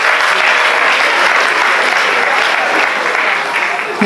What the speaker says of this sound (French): Applaudissez pour vous-même, s'il vous plaît.